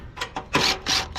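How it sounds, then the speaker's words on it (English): Quick ratcheting strokes of a 5/16 socket wrench tightening a bolt on a Cub Cadet XT2 mower, four or five short raspy clicks in a close, quiet rhythm. "Tighten out with the 5/16 socket."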